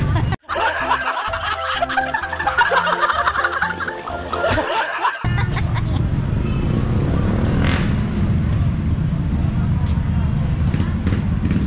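A motorcycle engine runs as a loud, steady close rumble that fills the second half, after a stretch of laughter and voices at the start.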